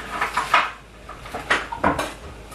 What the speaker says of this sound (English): And put in your ginger and your onions.